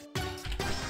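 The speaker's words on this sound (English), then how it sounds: "If you can hear that humming in the background, that's my fan" A steady electric fan hum fills the room, a continuous low drone with a brief quiet gap at the start.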